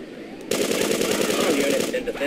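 A machine gun fires in the PC video game GTA 2 during a police chase: a dense, loud, continuous burst lasting over a second, then cutting off.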